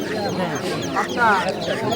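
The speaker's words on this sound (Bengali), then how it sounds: "দেখেন মুরগি" Chickens clucking at a village market in Mymensingh, Bangladesh, short bursts of clucks over a busy background of chatter and crowd noise.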